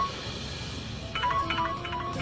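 A mobile phone rings in a Hindi TV drama scene, its faint repeating electronic tones starting partway through over a steady background hiss, with no talking.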